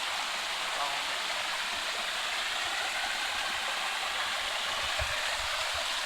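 A forest stream spills downhill through woodland on the Andhra Pradesh–Telangana border, giving a steady, close rushing wash of flowing water that holds at an even level throughout with no voices.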